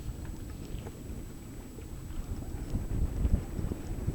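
Wind buffeting the microphone aboard a sailboat on a light-wind day heading toward Partridge Island, a steady low rumble with gusty swells that build louder toward the end, no talking.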